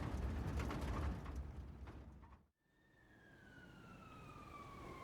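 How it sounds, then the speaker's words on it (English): A siren's tones sweep steadily downward after a brief dropout, over a rumbling, mechanical clatter of traffic noise. "The car's siren blared as I drove through the streets."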